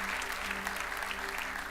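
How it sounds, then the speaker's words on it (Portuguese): A church congregation claps together in a steady, even wash of applause under a faint low hum, moderately distant and without talk. "pode aplaudir ao Senhor, que Ele está aqui nesse lugar"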